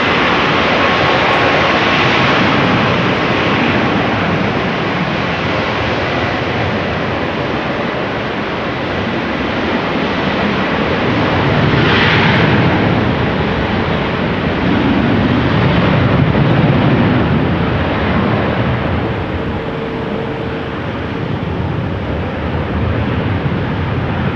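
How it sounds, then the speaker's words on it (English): KLM Airbus A330-200 jet engines spooling up on a rainy day at Amsterdam Schiphol, a loud, steady broadband roar that swells slightly midway and holds without pause throughout. "where we have this KLM A332 Mumbai spooling up"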